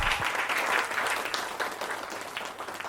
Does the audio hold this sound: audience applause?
yes